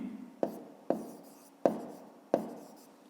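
Pen strokes on paper during a fifth-grade math exercise, four short distinct scratching taps spaced roughly evenly, close and quiet, with no talking.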